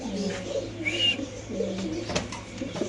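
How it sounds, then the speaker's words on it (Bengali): Pigeons at a Bangladeshi home pigeon seller coo repeatedly and close by, with soft throaty calls rolling through the whole stretch over light background noise and no talk. "আমরা আপনাদের এই কবুতরের ডাকটা ইনশাআল্লাহ দেখা দিচ্ছি"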